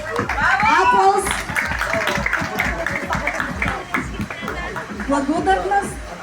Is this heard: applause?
yes